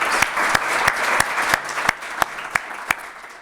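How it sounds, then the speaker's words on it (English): An audience breaks into a round of applause for volunteers, with dense steady clapping filling the room and a few sharp, louder nearby claps standing out at regular intervals. "it would be remiss of us to not have a round of applause for Giovanni and all the volunteers"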